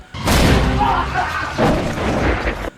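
A loud, close gunshot from a film robbery scene in which masked gangsters shoot a store cashier, a heavy boom with a long rumbling tail and a second swell, with no talk.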